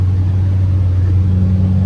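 A Bombardier J5 tracked snow machine pulling in first gear on a swamp rescue run, its engine a steady, loud, continuous low rumble heard up close and alone.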